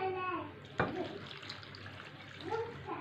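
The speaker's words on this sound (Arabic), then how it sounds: "صافي غادي نضيف الماء" Water poured into a pot while making a soup, a steady splashing stream heard close, with a voice speaking faintly over part of it.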